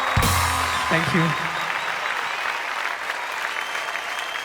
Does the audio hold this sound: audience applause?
yes